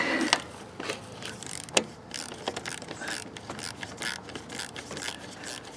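Ratchet wrench turning a 7/16 bolt on the air cleaner of an Onan Marquis 5500 RV generator, quiet irregular clicking and metallic scraping with a few sharper knocks, close up.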